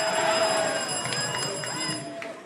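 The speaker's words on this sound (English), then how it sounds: "you must ring for it. Let me hear your bell" A quiz contestant's answer bell in a school science and maths competition final rings in a continuous bright metallic trill, fading slightly over a couple of seconds with faint room murmur beneath.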